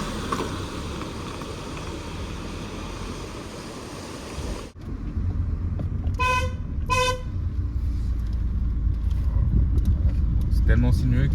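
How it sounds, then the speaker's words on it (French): A car horn gives two short toots on a winding coastal road, heard after an earlier stretch of steady road noise. The car's engine keeps running loudly in the foreground. "C'est tellement sinueux que je klaxonne pour montrer que je suis là."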